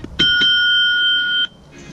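An electronic bell tone from a Smartomi Optimus wireless bike speaker rings out as a single bright, sustained ding, loud and close, lasting about a second before cutting off.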